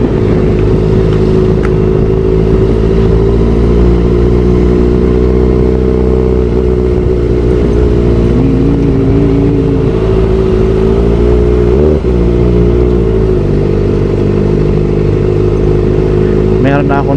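A Kawasaki ZX-4RR motorcycle engine idles while warming up, a loud, steady near drone with a low hum and faint clatter throughout, plus a brief bump in the middle.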